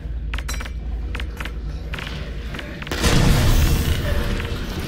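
A grenade explodes in the VR game Half-Life: Alyx, a loud broadband blast arriving about three seconds in and lingering as a rumbling wash, after sparse clinks and light thuds over a steady low background.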